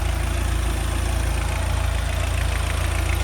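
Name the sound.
rebuilt Lada Priora 16v engine idling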